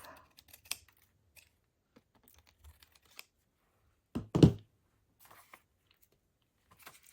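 Scissors trim paper for a Christmas journal, with one crisp cutting snip standing out amid faint scattered taps and rustles in a quiet room.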